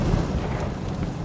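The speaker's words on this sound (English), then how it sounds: "an explosion in a flammable solvent storage tank at the Barton Solvents facility rocked the town of Valley Center, Kansas" Explosion of a flammable solvent storage tank at a solvents facility in Valley Center, Kansas: a heavy, continuous low rumbling roar with dense broadband noise, sustained and loud throughout the short stretch.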